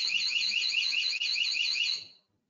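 A Dahua security camera's siren alarm, preset tone two, sounds as a loud electronic warble that repeats quickly and steadily for about two seconds and then cuts off sharply.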